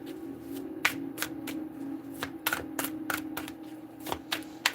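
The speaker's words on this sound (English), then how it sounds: "Shuffling for Sag." Tarot cards shuffled by hand in a quick series of crisp riffles and slaps, close and fairly quiet, over a low steady room hum.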